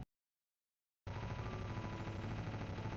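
Rapid gunfire in a Homestuck animation, a dense stream of many bullets that starts abruptly after a second of silence and continues without pause, fairly quiet.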